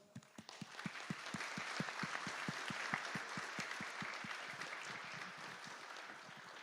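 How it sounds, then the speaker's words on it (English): A room full of people at a developers' conference applauding steadily for several seconds, a dense wash of clapping with a few distinct hand claps near the front. "Okay, thank you very much both. A round of applause."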